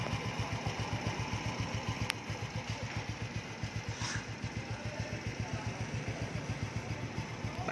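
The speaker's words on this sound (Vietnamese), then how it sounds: "Máy nổ ha, chụp cổ bô cho anh em xem luôn nha anh em ha, cổ bô biết nói chuyện" A 2005 Honda Wave ZX motorcycle with 38,000 km on it idles steadily up close, its exhaust giving off an even, rapid low putter that holds throughout with no pauses.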